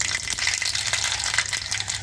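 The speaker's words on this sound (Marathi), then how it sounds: "मोहरी सुद्धा खूप छान तडतडली आहे।" Mustard seeds crackling in hot oil, a dense, steady spattering hiss heard close and fairly loud throughout, with no talk.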